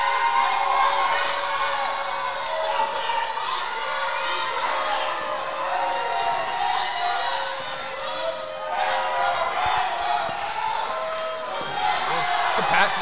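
Wrestling crowd in Santa Fe, Texas cheering during an independent wrestling show, a sustained roar of voices with shouts rising and falling, with some talk mixed in.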